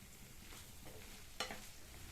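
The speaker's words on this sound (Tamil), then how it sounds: "இப்போ இந்த பீன்ஸை நல்லா மசாலாவோடு சேர்த்து 2 நிமிஷத்துக்கு இந்த மாதிரி வதக்கி கொடுத்துக்கலாம்." Cut beans are stirred with masala in a frying pan, giving soft scraping strokes over a faint sizzle, with one sharper clink of the spoon partway through; quiet and close, with no talking.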